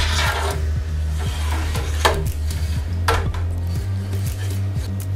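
Cheese curd for Lancashire cheese being cut horizontally with a cheese harp in a pot, with soft repeated scraping and light knocks against the pot edge over a steady low hum.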